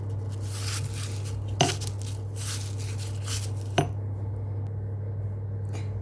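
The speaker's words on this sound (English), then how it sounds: "and then I'm going to start grinding it" A pestle grinds dried, brittle flower petals in water in a mortar, giving soft scraping and patter with two sharp knocks against the bowl over a steady low hum.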